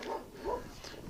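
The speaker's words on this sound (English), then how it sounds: "Dog's barking." A neighbor's dog barks a few times at a distance, short muffled yaps heard faintly indoors.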